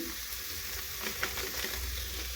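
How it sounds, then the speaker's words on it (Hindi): Vegetables seasoned with salt and turmeric fry with a steady, soft hiss and crackle in a pan, stirred now and then with faint scraping, with no voices. "उनके बाद इनको चला के कुछ देर तक और भून लेते हैं ताकि पूरा भुंजा जाए।"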